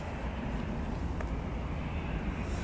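Airliners, including KLM, Jet2 and easyJet jets, departing Manchester Airport, heard as a steady, distant broadband roar of jet engines that holds at an even level throughout, with no talk.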